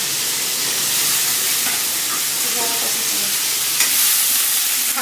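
Pumpkin pieces lightly frying in oil in a home kitchen pan, a continuous close sizzle with occasional stirring scrapes and clinks over a few seconds.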